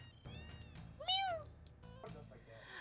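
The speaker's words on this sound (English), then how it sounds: "Oh, there's cats everywhere." A cat meows in Final Fantasy VII, one clear rising-and-falling meow near the middle with fainter cat sounds around it, heard under and between a person's talking.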